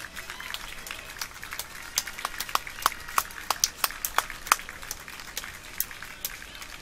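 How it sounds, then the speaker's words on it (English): Applause for the players after a Florida vs. Tennessee game at an outdoor sporting event, scattered claps of moderate volume from a modest crowd, thin and somewhat distant, swelling slightly in the middle before trailing off. "will you join me and give them a great round of applause for their play here this week?"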